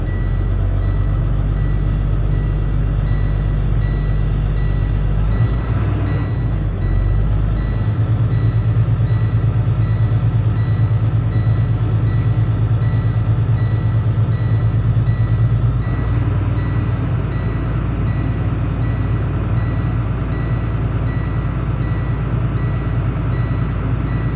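Large truck engine idling steadily at close range while building air brake pressure, a constant low rumble with a faint tonal whine throughout and no talk.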